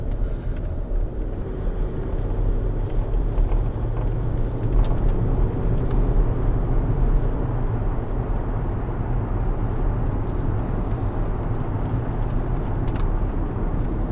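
A Range Rover pushed hard through bends gives a steady, loud interior road rumble with continuous engine and tyre drone that holds level throughout.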